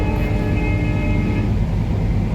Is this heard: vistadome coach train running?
yes